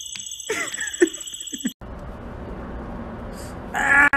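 A bird caws harshly in a short burst of rough, harmonic calls over the first second and a half, then gives way to a steady hiss of broadband noise.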